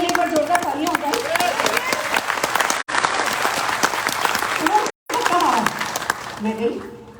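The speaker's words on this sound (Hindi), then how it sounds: "एक बार जोरदार तालियां होता है।" A crowd at a Modicare marketing mentor talk gives loud, dense applause that fills the room, broken by two brief drop-outs, with a voice speaking over the clapping.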